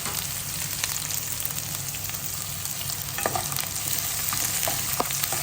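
Onion and curry leaves fry in hot oil in a pan for a Kerala ivy gourd stir fry. A steady close sizzle runs throughout, with occasional scraping clicks of a stirring spoon and no talk.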